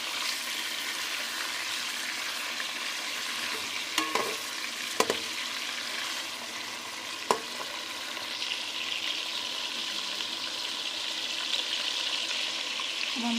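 Half a kilogram of meat frying on medium flame in a karahi pan, a steady close sizzle throughout with a few sharp clinks of stirring.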